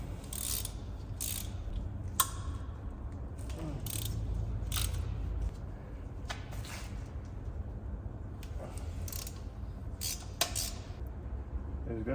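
A ratchet clicks in repeated short bursts while removing turbo mounting bolts from a Mazda RX7 13B rotary engine, close and fairly quiet, with pauses and some faint handling noise between strokes.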